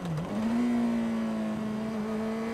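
A Honda CBR600RR motorcycle engine revs and then holds a steady tone as it slows under engine braking after a downshift, a continuous droning hum with no talk over it.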